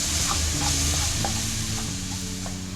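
Sliced onions sautéing in leftover fish-frying oil, a steady broadband sizzle with occasional stirring scrapes and light clicks of a spoon against the pan.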